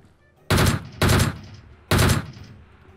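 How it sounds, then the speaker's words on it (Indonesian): Three sharp, loud gunshots ring out in the PUBG Mobile video game, the first two close together and the third after a short gap, each with a brief echoing tail and no talk over them. "Oh, ada yang nembakin nih."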